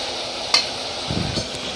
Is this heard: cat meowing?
no